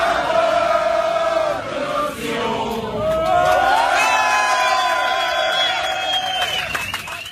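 Large crowd leaving the Stade de France after the attacks, voices massed in sustained, ragged singing of La Marseillaise, loud and continuous with scattered shouts and cheers throughout.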